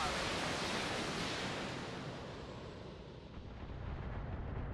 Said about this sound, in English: We're just going to fire the one LRM-15